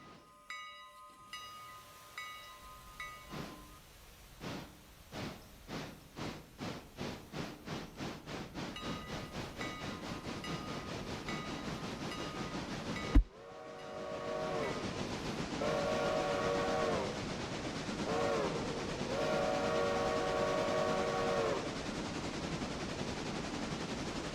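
A steam train in the Railroader video game chuffs faster and faster as it picks up speed, then its whistle sounds in several long blasts over a steady rolling rumble as it rounds a corner.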